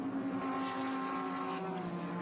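GT race cars from the Pirelli World Challenge GT-X round at the Rose Cup Races battle for position, their engines blending into a continuous, loud droning roar with no break.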